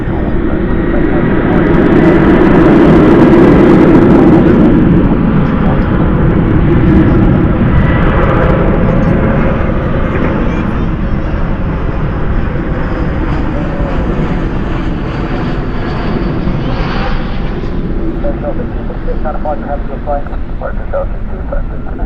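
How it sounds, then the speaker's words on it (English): American Airlines A321 rolling out on landing at night at Dallas/Fort Worth with spoilers up and thrust reversers deployed, a loud sustained jet roar that swells early then holds steady as a broad rumble, with a voice talking over it. "spoilers up, reversers out on that American Airlines A321"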